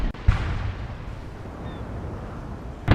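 Ship cannon broadside fire in Napoleon Total War: a booming shot near the start, a sustained rumbling roar of battle, then another heavy blast at the end.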